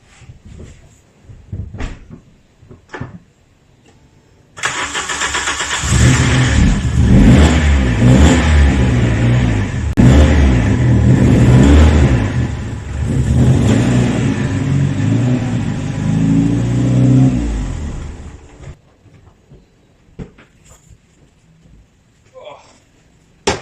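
A Volkswagen Vento 16v with an ABF engine cranks and fires up loud and close, then revs and idles roughly for about fourteen seconds before cutting off into quiet handling noises.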